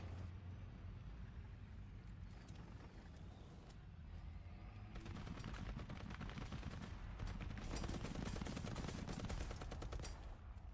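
Rapid gunfire from the War Thunder game runs continuously against a loud, dense combat backdrop, with bursts thickening into heavier, sustained fire during the second half.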